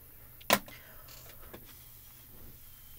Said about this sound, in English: I'm going to spritz that with the regular alcohol.